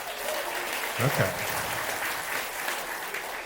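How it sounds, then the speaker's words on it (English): Comedy theatre audience applauding at a stand-up show, a thin, scattered patter of claps at moderate distance, with a brief spoken word over it partway through. "Round of applause, couples."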